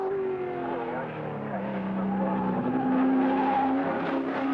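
A Marlboro Holden Dealer Team touring car driven fast across the top of the mountain at Bathurst, its engine a loud, steady drone with shifting pitch that rises slightly toward the end, with a commentator talking over it.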